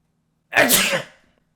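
A single loud sneeze, close and sharp, with a quick burst and a short trailing breath, then silence.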